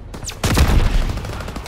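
Machine gun fire in the World War II video game Call of Duty WWII, D-Day mission: a short, loud rattling burst right up close, with faint voices underneath.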